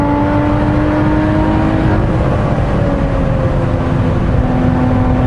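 A 2017 Lotus Exige Cup 430 pulls hard on a damp circuit, its engine droning loud and close as the pitch climbs gradually through a sustained acceleration, with no talk.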